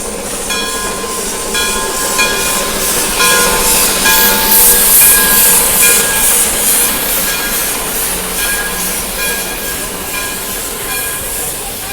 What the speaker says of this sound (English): Nice little train.